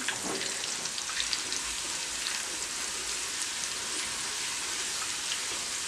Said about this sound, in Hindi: चंद सेकंड के लिए इसको फ्राई किया